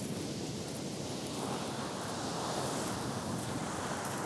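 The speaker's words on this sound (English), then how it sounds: "you can just listen to the sound of the ocean" Ocean surf washing steadily onto the shore, a continuous broad roar with gentle swells and a light breeze, no voices.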